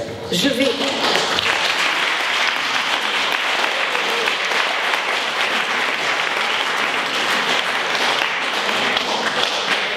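An audience applauds after a presentation about a high-school association, a loud, sustained burst of many hands clapping that starts sharply and holds steady to the end.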